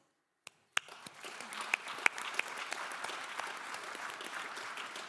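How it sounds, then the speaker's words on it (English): Audience applause for panelists at an agriculture forum, starting with a couple of sharp claps and then building into steady, dense clapping from a hall crowd that continues evenly for several seconds. "Let's give our applause to the panelists."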